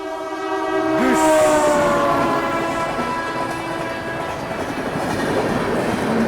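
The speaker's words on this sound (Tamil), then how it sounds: "ஸோ இதுதான் ட்ரெயின் வருது." A train arrives at a railway station near Lonavala, Pune, with a long horn blast near the start, followed by steady rumbling and clattering of wheels on the tracks.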